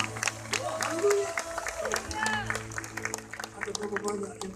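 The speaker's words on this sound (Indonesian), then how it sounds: "Sekali lagi berikan tepuk tangan buat Tuhan" Applause and cheering ring out from a large congregation at a healing crusade in Manado, steady crowded clapping under loud talking and music, voices rising in places.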